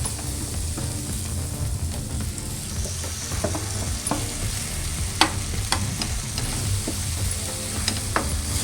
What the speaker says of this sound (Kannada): ಒಂದು ನಿಮಿಷ ಚೆನ್ನಾಗಿ ಇದು ಎಣ್ಣೆಲಿ ಇದ್ರ ಜೊತೆಗೆ ಫ್ರೈ ಆಗುತ್ತೆ